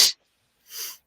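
A single person sneezes close up, with a sharp burst followed by a softer breathy exhale a moment later, heard alone.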